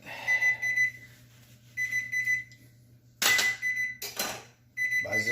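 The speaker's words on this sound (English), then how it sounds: "Buzzer is off." Oven timer going off after 30 minutes of baking chicken wings: a loud electronic beeping in bursts separated by pauses, with sharper, harsher tones near the end.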